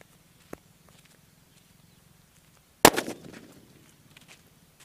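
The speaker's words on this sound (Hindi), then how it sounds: "और ग्रेनेड बम भी हमारा ठीक ठाक चला है यार।" A grenade-style Diwali firecracker bursts once with a sharp, loud bang, followed by a brief crackling, fizzing tail. A faint pop comes earlier against quiet background hum.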